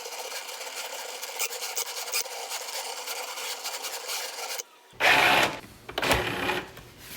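A Cricut machine cuts an infusible ink sheet, giving a soft, steady mechanical whir with small ticking movements, followed by a few louder rubbing and handling sounds near the end.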